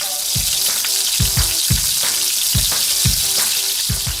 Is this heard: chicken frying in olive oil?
yes